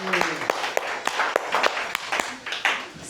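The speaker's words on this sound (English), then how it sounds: "Give yourselves a round of applause" Scattered, uneven handclaps from a small game-show audience and players at a quiz show's close, a thin round of applause with a few sharper claps standing out and some voices mixed in.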